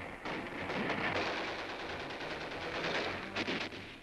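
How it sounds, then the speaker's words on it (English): Heavy artillery pounding shells onto Japanese-held mountain ridges near San Nicolas in the 1945 Philippines campaign, heard as a dense, continuous rumble of distant booms and crackling blasts on an old newsreel soundtrack. "Artillery pounds heavy shells into Japanese positions on the ridges above."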